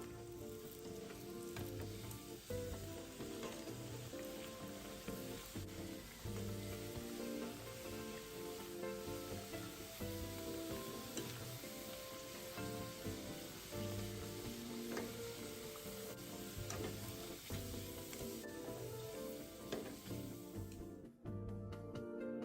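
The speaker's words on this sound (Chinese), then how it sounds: "油炸至表面金黄色后即可离火，复炸后的年糕更酥脆" Banana nian gao coated in a cassava and coconut-milk batter deep-fries in very hot oil, making a dense, even sizzle and crackle that stays quiet and steady throughout without speech, then cuts off at the end.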